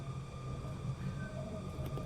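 A Vienna tram in the Tram Sim Vienna video game rolls along, a steady low rumble with faint tonal whines rising over it throughout.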